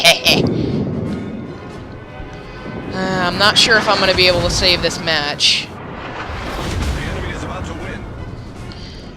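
Naval gunfire booms out in the World of Warships video game, a few heavy blasts rising out of steady game noise while someone talks over them throughout.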